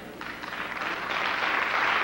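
A large audience breaks into applause, a dense wash of clapping that starts after a brief pause and swells steadily louder, filling the rest of the moment with no talk over it.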